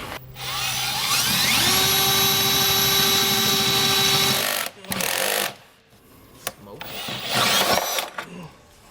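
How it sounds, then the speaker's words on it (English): A power drill with a hole saw cutting metal whines loudly at a steady pitch for several seconds, then stops and restarts in short bursts with pauses between. "I'm gonna go ahead and use my hole saw here"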